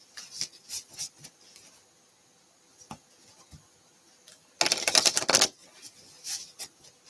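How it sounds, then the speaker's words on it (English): A deck of cards is shuffled in a burst of dense riffling, framed by sparse light taps and handling clicks in a quiet room. "Let's get a quick shuffle on these cards."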